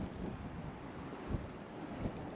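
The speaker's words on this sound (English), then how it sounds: "the wind every now and then goes quite crazy" Strong wind gusts buffet a sailboat during a cold, gloomy passing front, giving a steady broad roar with two slightly stronger swells, close and continuous with no voices.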